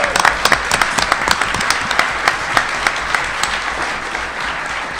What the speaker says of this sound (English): that's a cue for a round of applause